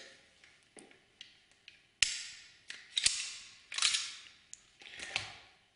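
A Sig Sauer P226 LDC 9 mm pistol is taken apart by hand, a series of sharp metallic clicks and snaps of the slide, guide rod and barrel, close-up and irregular, each ringing briefly before the next.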